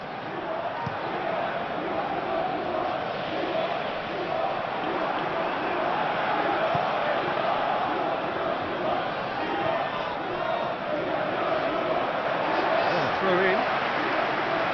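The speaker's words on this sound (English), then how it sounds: "at least the crowd are appreciative of his efforts" A video game stadium crowd in PES 2021 reacts to a near-miss shot during a Luton Town versus Hull City match, a sustained broad murmur and applause running continuously under a commentator's voice.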